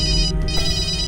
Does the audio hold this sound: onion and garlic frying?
no